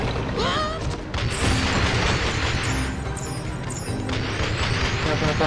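A burst of booming explosion effects erupts in Skylanders: Spyro's Adventure gameplay, loud and dense, with crashing debris and game sound filling the whole stretch.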